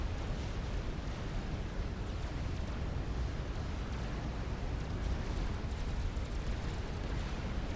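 Artillery fire from a Thoda unit in Supreme Commander: Forged Alliance, a dense, unbroken rumble of overlapping explosions and bursts with no clear gaps, steady and moderately loud, with no talking.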